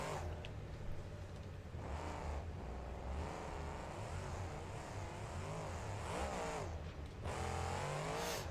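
Gravedigger monster truck in BeamNG's Monster Jam stadium series, its simulated engine roaring and revving continuously at close range, with rising and falling pitch sweeps as it accelerates.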